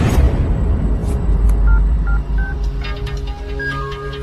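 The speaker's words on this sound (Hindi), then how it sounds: "रिंगटोन अच्छी है।" A phone ringtone in an action film plays as a loud sequence of clear electronic beeping tones over a low rumbling movie soundtrack, with no talking.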